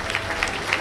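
An audience claps in church during a mass prayer service, a brief burst of dense, steady applause close by.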